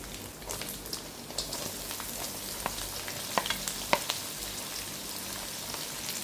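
Chopped garlic and onion sauté in a pan as part of a mushroom pulao, giving a steady, moderately loud frying sizzle with scattered crackles and a few sharper pops, continuous throughout with no voices.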